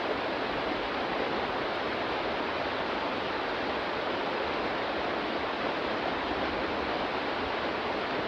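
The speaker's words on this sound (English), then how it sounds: "Sounds like white water" Rushing white water river in a horror video game, a steady, loud broadband roar of churning water that holds constant throughout with no other sounds.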